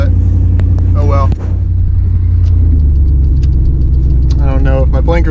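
A loud 1998 Chevrolet K1500 pickup with a swapped 5.3 V8 rumbles steadily while driving, its deep engine drone constant and close, with a person talking over it.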